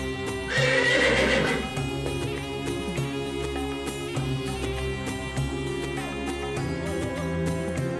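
A video game horse neighs loudly near the start, followed by hooves clip-clopping over steady background music.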